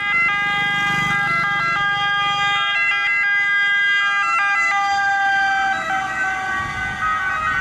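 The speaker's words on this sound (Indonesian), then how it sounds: "ternyata ada mobil ambulan" A toy ambulance sounds its electronic siren, a loud close wailing two-tone pattern stepping up and down repeatedly for several seconds, with soft handling noise underneath.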